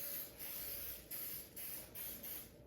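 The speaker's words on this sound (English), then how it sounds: "I'm just going to use some cooking spray" Canola oil cooking spray hissing from a can onto a pan in a home kitchen, several short close bursts with brief gaps between them and no talking.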